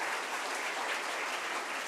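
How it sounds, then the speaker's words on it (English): Audience applause at a law school commencement lecture, a brief, dense wash of clapping held at an even level, with no voices over it. "so a round of applause for him."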